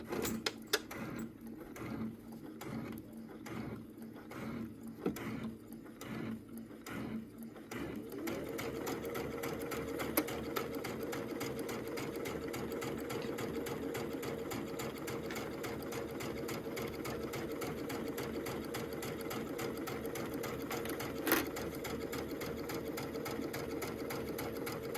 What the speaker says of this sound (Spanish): le tengo que dar un poquito de ayuda a mi máquina de coser para que los pueda pasar